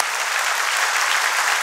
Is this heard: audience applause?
yes